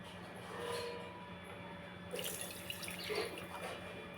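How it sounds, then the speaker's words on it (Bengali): Water poured from a cup into gram flour (besan) batter for dhokla, a soft, steady trickle lasting a few seconds, faint and close, with no voices. "এক কাপের মতো প্রায় এক কাপের মতো জল দিচ্ছি"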